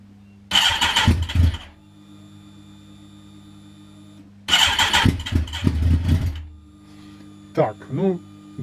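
A Kawasaki ZX14 motorcycle engine, just reassembled after a cylinder head rebuild, gets two loud, close bursts of starter cranking about a second each, with a steady low hum in between and a brief sharper sound near the end.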